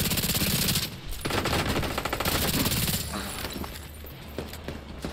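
Rapid automatic gunfire in the shooter video game The Division 2, loud dense bursts that are nearly continuous, with a short dip and a thinner tail toward the end.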